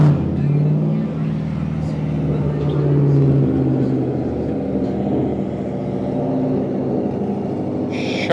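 A Corvette V8 with straight exhaust rumbles loudly nearby on a busy night street, a deep sustained engine roar that rises slightly mid-way and stays heavy throughout.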